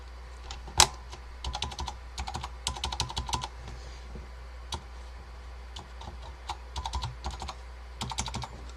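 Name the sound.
typing on restored Focus FK-2001 Alps keyboard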